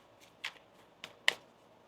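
Faint, quick flutters of tarot cards being shuffled, a few soft riffling bursts in an otherwise quiet space.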